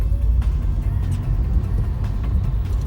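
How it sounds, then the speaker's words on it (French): A Volkswagen e-Up electric car accelerates, giving a steady low road and tyre rumble with faint whirring, heard from inside the cabin with no talk. "On a un test d'accélération."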